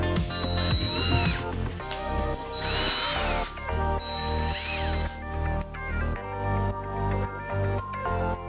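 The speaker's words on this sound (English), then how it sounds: "I of course need to drill a hole inside in order to actually put it on the motor." Power drill boring a hole through a pedal bar for a homemade drivable go-kart, whining loudly in repeated bursts that rise and fall in pitch, with short pauses between runs.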